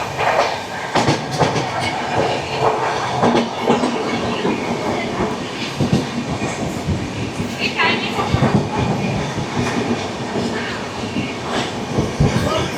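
An Indian passenger train runs along the rails at a station, a loud continuous rumble with rhythmic clickety-clack of wheels over joints throughout, and people talking nearby.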